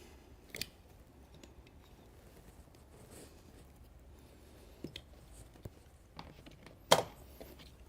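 Scissors trimming the overhang of flooring material in a workshop, a few faint, sparse snips and clicks over quiet room tone, with one sharper cut near the end.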